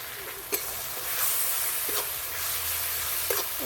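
Chopped tomato goes into hot oil with duck curry spices and garlic paste, giving a steady loud sizzle and hiss with a few sharp spatters and stirring scrapes.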